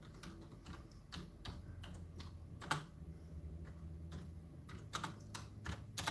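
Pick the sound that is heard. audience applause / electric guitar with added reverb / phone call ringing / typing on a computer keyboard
typing on a computer keyboard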